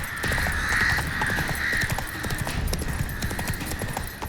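Horse hooves galloping in The Witcher 3, a steady, dense run of rapid beats held close and loud throughout under a bright tonal game sound, with no voices.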